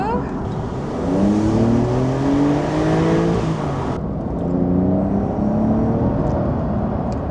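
A Porsche 911 engine, heard from inside with windows lowered, revs up strongly with rising harmonic tones, a steady loud acceleration that dips briefly midway and then climbs again.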